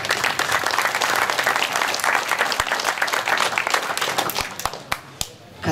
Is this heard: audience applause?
yes